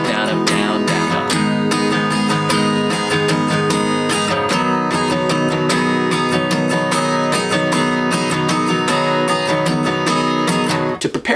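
Acoustic guitar strums the chords of a song with a capo, in a steady down-up pattern, dense and loud throughout, alone without voices.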